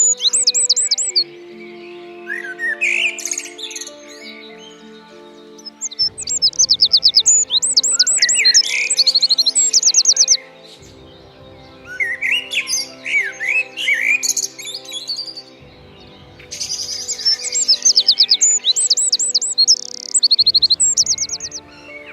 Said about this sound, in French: Conclusion, c'est un merle blanc.